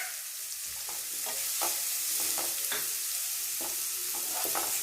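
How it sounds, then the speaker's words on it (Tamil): Sliced onions fry in hot oil for an egg thokku, a constant sizzling hiss with repeated scraping knocks as a spoon stirs them around the pan close by. "இப்போ நம்ம வெங்காயம் போட்டுக்கலாம் வெங்காயத்தை மிக்ஸ் பண்ணிக்கலாம்"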